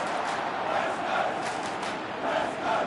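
A stadium crowd cheers steadily in the AFL EVO 2 football video game, a dense, sustained roar with gentle swells and no break.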